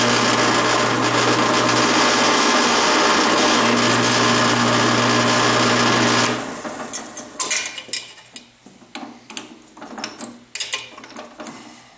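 A number 53 carbide drill bit, screw-machine length, bores a small ball-detent hole in knife work: a steady, loud whirring drone for about six seconds, then scattered clicks and clatter as drilling stops.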